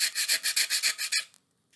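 Small fine pieces of timber from a paddle pop stick biplane model are sanded by hand in about nine quick, even rasping strokes, close and fairly loud, then the rubbing stops into near silence.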